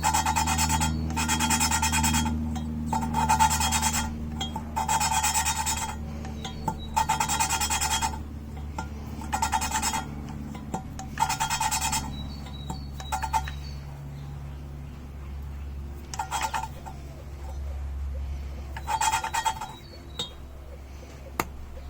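A rhythmic rasping scrape repeats in bursts of back-and-forth grinding as a Yamaha XJ650 engine valve is lapped against its seat, metal on metal, over a low steady hum from nearby machinery.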